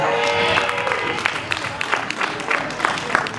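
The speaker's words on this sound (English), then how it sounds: "give yourselves a round of applause" Applause and cheering from the crowd at a record label launch party, dense clapping with scattered sharper claps, fairly close, and voices mixed in.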